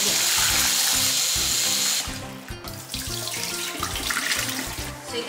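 Soaked wood ear mushrooms rinsed under a running kitchen tap, with a strong, close gush of water that softens into splashy, uneven rinsing as the mushrooms are handled beneath the stream.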